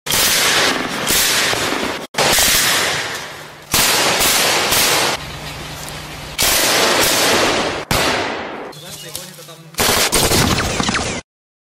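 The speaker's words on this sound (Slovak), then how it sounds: "Jak oni sa stretli s týma banderovcami, naši vojaci, a začala streľba." Loud, close bursts of machine-gun fire rattle in long rapid volleys during a skirmish with Banderite partisans, broken by brief abrupt pauses between the bursts.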